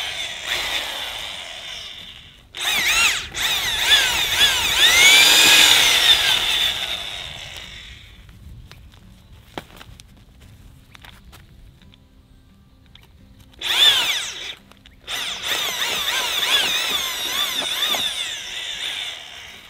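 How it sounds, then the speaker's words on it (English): A cordless power drill whirs in loud bursts as it bores holes in garden soil, grinding and straining with pitch shifts, separated by quiet gaps before starting up again. "your regular cordless drill would probably work"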